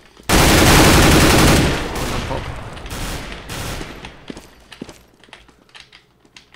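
Burst of rapid gunfire from a Glock pistol in a CS:GO competitive match, loud and dense for about a second and a half, then trailing into scattered shots, clicks and footsteps.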